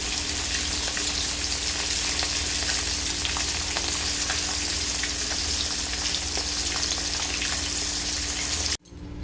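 Rohu fish pieces fry in a pan of oil, a loud, dense, steady sizzle and crackle like heavy rain that cuts off abruptly near the end.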